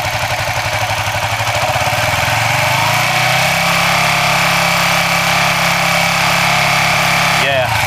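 A Suzuki FU 150 fuel-injected motorcycle engine held at a high steady rev near 5000 rpm, loud and close with a constant droning buzz that settles into a sustained tone before cutting off abruptly near the end.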